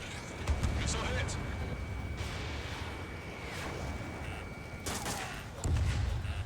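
Missile strikes in the Ace Combat 7 flight game, heavy booming explosions with crackling bursts near the start and a louder blast near the end, over continuous jet rumble.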